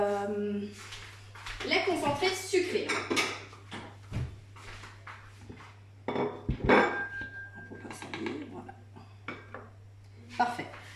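Clinking bowls, utensils and kitchen clatter as sweetened condensed milk is added and stirred into coconut caramel sweets, intermittent and close, under ongoing talk.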